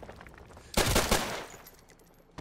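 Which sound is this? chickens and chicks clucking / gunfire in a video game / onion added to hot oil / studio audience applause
gunfire in a video game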